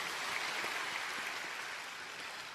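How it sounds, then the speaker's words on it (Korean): A church congregation offers applause after a hymn, a soft, distant wash of many hands clapping evenly for a couple of seconds, slowly tapering off. "하나님께 영광과 감사의 박수 올려드리겠습니다"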